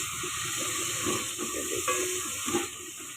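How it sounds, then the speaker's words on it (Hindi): Whole green chillies drop into hot oil with ground spices for a dhaba-style chana dal, giving a steady close sizzle and crackle with light stirring and no voices. "3 अदद ये हरी मिर्ची साबुत डाल दें।"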